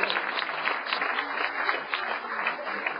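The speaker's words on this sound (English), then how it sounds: "Give a clap offering unto the Lord." A church congregation clapping together as a clap offering, a steady dense wash of hand claps at moderate level with no speech over it.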